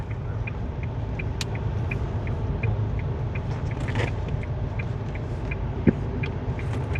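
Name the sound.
passenger bus driving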